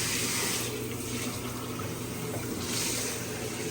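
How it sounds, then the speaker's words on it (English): Steady rushing of running water from a hose filling an aquarium setup, continuous and fairly faint, with no voices. "We've got the hose running some water right now."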